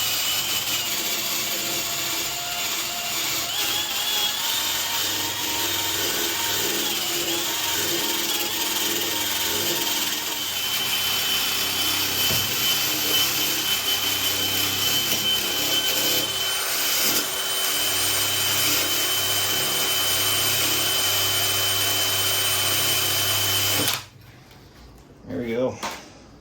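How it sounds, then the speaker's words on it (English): Rust is scrubbed off a snowblower's wheel shaft with a continuous, loud abrasive grinding, likely a power tool, that runs steadily for most of the clip before cutting off near the end, with some talk underneath. "Just gonna kind of clean up some of this rust on here"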